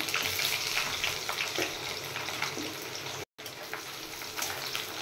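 Coarsely chopped onions fry in hot oil with garlic for Bengali khichdi, making a dense, continuous sizzle close by, briefly cut off by a short silent gap, with no talking.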